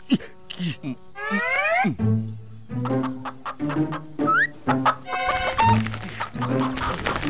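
Chickens cluck and squawk in short bursts close by, while people talk excitedly over and between the calls.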